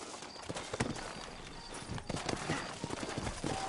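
Horse hooves clip-clop steadily on a town street in the Red Dead Redemption video game, a close, continuous run of hoof strikes over ambient game noise.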